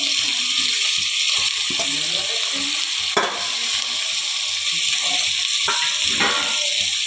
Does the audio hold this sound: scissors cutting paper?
no